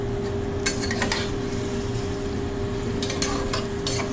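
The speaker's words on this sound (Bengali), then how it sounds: "মাংসটাকে খুব ভালো করে কষিয়ে ফেল" Mutton pieces being sautéed without onion or garlic in a pan, a spoon scraping and clinking against the metal in a few bursts over a steady low sizzle and hum, close by with no talk.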